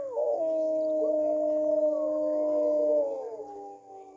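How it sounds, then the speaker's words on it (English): A single sustained wolf howl in the video game WolfQuest holds a steady pitch for about three seconds, then bends downward and fades out. "Let's howl again."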